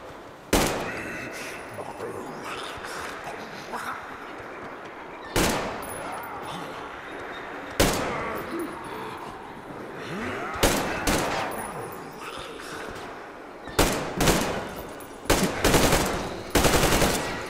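Gunfire in the post-apocalyptic shooter Metro Exodus, loud sharp shots and short bursts spaced irregularly, several clustered rapidly near the end, with game ambience and scattered sounds between them.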